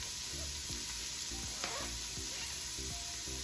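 Sausage sizzles steadily in a pan alongside onions, a constant fizzing hiss close up, broken by a few soft scrapes and clinks and brief murmuring voices in the background.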